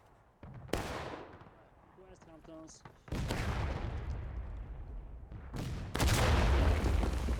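Gunfire in the War of Rights Civil War game, heavy rolling musket volleys and sharp cracks booming one after another, loud and reverberant, with a voice murmuring briefly between the shots.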